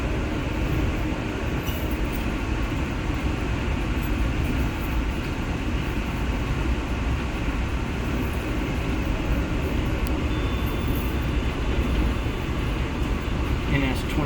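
NS24X freight train, with a Union Pacific engine between two Norfolk Southern engines, rumbles past in a steady, dense roar that holds evenly throughout at a moderate distance.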